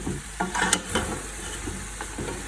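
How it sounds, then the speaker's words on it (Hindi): Beef trotters fry in a pan with garlic, ginger and spices, giving a soft, steady sizzle. A utensil stirs them nearby with occasional scraping clatters, and there is no talk. "बस अब थोड़ा सा पायों को जो है वो हम भून लेते हैं।"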